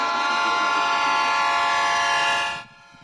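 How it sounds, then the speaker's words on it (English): A CHEPE passenger train's horn sounds in one long, loud, steady blast for a couple of seconds as it leaves Divisadero, Chihuahua, in the Copper Canyon, then cuts off, leaving quiet rumble. "As the historic CHEPE train leaves Divisadero, Chihuahua and winds eastward through the canyon"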